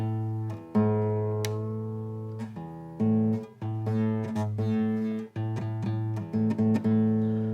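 Guitar strings plucked repeatedly, sustained notes ringing together while the pitch of one shifts slightly as its tuning peg is turned to match, close and fairly loud.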